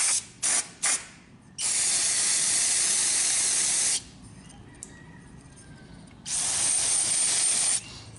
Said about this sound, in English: Let's just rinse the bowl out real good.